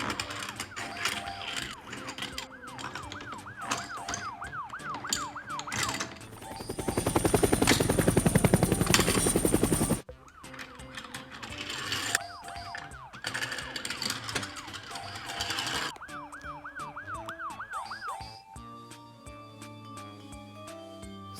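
A toy ambulance siren wails in repeated electronic up-and-down sweeps, broken by a loud noisy burst in the middle and ending in steady toy tones, with no talking.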